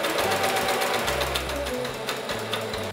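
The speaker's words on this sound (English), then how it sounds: "What I'm gonna do now is hem this just a little bit, take it through my sewing machine" A sewing machine zigzag-stitches a hem on a figure skater costume, whirring steadily and close with a rapid mechanical chatter. A low motor hum starts and stops in short runs.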